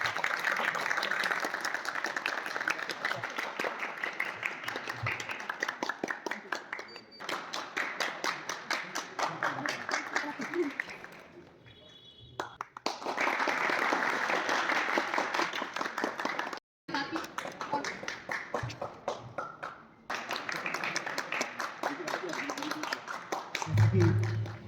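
Sustained clapping from a crowd at the closing ceremony of a college NSS seven-day special camp. Dense, steady applause fills most of the stretch with a couple of short breaks, and voices murmur beneath it.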